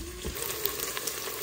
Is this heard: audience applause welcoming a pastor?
no